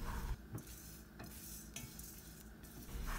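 Sesame seeds, white or black, fry in a pan with a faint continuous crackle, broken by several soft stirring scrapes at irregular intervals, close and quiet with no talking.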